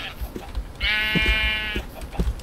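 A Minecraft sheep lets out one sustained, wavering bleat of about a second, clear and fairly close, amid faint game footsteps and clicks during survival play.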